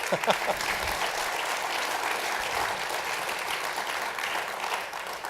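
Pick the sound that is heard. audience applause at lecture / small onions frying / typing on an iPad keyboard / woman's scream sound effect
audience applause at lecture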